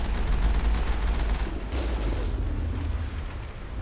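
Heavy explosions and rumbling blasts pound the Mako vehicle under enemy fire from a Colossus in the Mass Effect video game, with loud, continuous low booms and crackling debris throughout.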